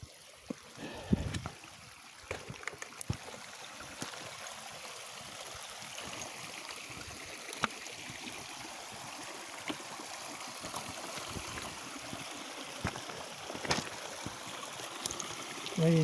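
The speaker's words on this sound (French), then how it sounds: "Là, il y a une belle cascade." A small mountain waterfall in the Queyras hiking country rushes in a steady, soft wash of water, continuous and moderately distant, with a few faint clicks on top.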